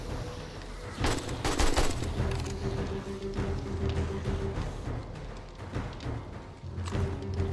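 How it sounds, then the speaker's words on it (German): Rapid gunfire in the zombie survival game 7 Days to Die, bursts of loud shots and thuds clustered early then recurring, with sustained tonal hum from the game underneath. "Kopfschüsse, beste Schüsse."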